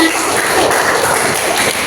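A classroom of students applauds in a dense, loud wash of clapping that stays constant and close throughout.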